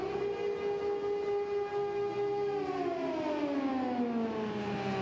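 An air raid siren wails over Haifa during missile attacks, a steady droning tone that drifts lower and slides in pitch, loud and sustained throughout with no voices.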